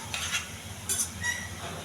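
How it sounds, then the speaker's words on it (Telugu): Gulab jamun frying in hot oil while a spoon stirs them, giving a steady low sizzle with a few brighter scraping strokes of the utensil, close and moderately quiet, no one talking. "జామున్ బాగా కాలనివ్వాలండి. మాడకుండా కొంచెం కలుపుతూ ఉండాలండి."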